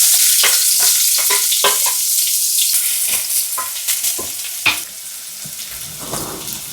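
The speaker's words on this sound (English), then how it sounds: "Go ahead and add the onions to the pan." Onions hitting a hot pan and frying, a loud sizzle with sharp crackles and stirring scrapes that settles into a steadier hiss, close and alone with no voices.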